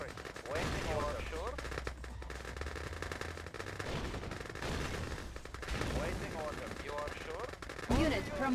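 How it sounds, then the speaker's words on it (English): Conscript infantry in the Red Alert 2 strategy game fire rifles in steady, overlapping rattling volleys throughout, with the battle sound continuous and loud and a person talking over it. "Now we just get as many units as possible to shoot through this thin gap."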